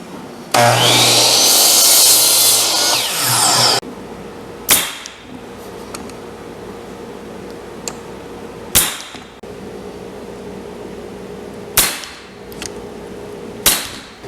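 A power saw roars through several stacked pieces of wood cabinet framing for about three seconds, followed by several sharp, isolated knocks and clunks spaced apart in a quiet room.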